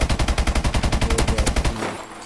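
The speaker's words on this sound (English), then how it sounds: "this is my favorite LMG in the game. So I'm just gonna keep shooting." LMG light machine gun firing in Call of Duty Advanced Warfare, a rapid even burst of about twenty heavy shots in steady rhythm, loud and close, then cutting off into a brief tail.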